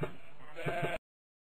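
Sheep bleating in a short run of wavering calls, close and clear, with a few quick pulses near the end before cutting to silence; no voices.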